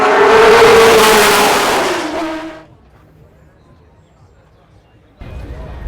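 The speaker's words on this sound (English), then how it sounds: "the only sole Ferrari that's out there at the moment. Full throttle, flat chat" A Ferrari race car passes at full throttle at the Goodwood Members' Meeting, a loud roaring engine that drops away into quiet after about two seconds before crowd noise returns.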